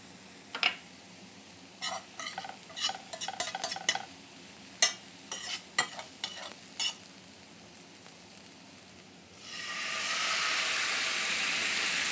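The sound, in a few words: deglazing a pan with port wine, sizzling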